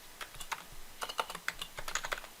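A computer keyboard is being typed on in a quick, irregular run of light clicks and taps, close up and fairly soft, with no voice over it.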